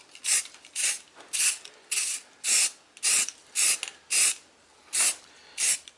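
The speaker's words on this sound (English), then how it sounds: "I can just spray my grey in" Grey paint is sprayed in nine short, even bursts of hissing aerosol, each about half a second with brief pauses between, close and clear against a quiet background.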